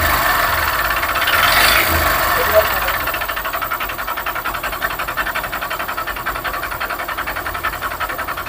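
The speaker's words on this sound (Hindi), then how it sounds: "इस तरह का साउंड आ रहा है दोस्तों इस बाइक के अंदर" Honda Livo BS4 motorcycle engine idling with an abnormal mechanical noise, a steady close rattling hum that holds throughout after a brief louder rise near the start.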